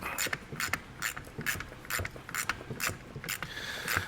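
A ratchet wrench tightens a bolt on a junkyard seat being fitted into a 1941 Mercury, giving a series of crisp, rhythmic clicking bursts close by, with no talking.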